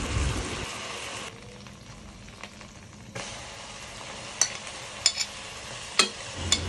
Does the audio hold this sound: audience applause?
no